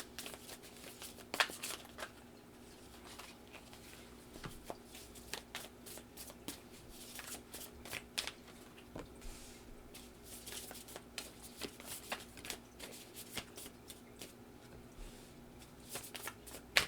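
Tarot cards shuffled by hand in a steady, soft riffling stream with occasional sharper flicks and taps as cards are pulled, close and quiet, with no talking.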